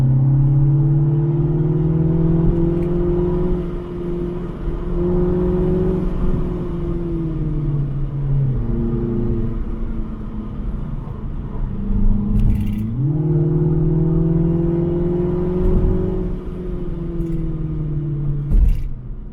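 Mini Cooper S cabriolet engine droning steadily while driving, its pitch rising and falling with gear changes and throttle, close and continuous with no talk.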